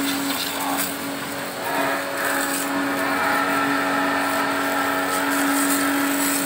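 A pressure washer sprays water over a car at close range, a steady, loud hiss with a constant motor hum underneath that runs unbroken from start to finish.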